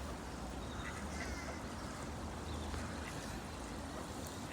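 Mandarin ducks at a duck park quack faintly and at a distance, over a constant outdoor wash of water and background noise.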